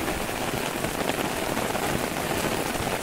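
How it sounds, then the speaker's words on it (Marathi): Steady rain pours down on a flooded paddy field in Konkan during rice planting season, a dense, even hiss of drops striking water and ground with no voices. "कसं पाऊस पडता तो बघा"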